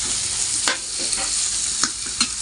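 Baby squid sizzle loudly in a hot pan of spicy rica-rica sauce, with several scraping strokes of a spatula stirring through the steady frying hiss.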